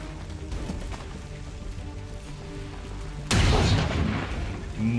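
A missed gunshot in the turn-based strategy game XCOM 2: after a low rumbling ambience, one loud, sharp blast erupts with a booming tail that fades over the last couple of seconds.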